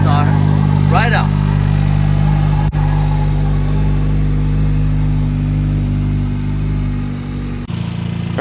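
A modified Honda Civic Type R FL5, built toward 500 horsepower, idles loud and steady with a deep, even hum, with a brief faint voice-like chirp early on and a short break near the end.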